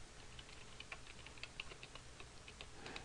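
Quiet, close typing on a computer keyboard while entering a spreadsheet label, light scattered key clicks in an uneven rhythm over faint room hiss.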